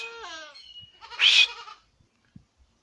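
Goats on a goat and sheep farm in Westside Jamaica bleat nearby. One drawn-out, wavering call is followed by a harsher, louder bleat, then a few soft knocks in near silence.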